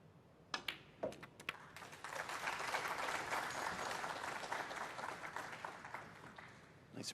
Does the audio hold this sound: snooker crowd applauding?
yes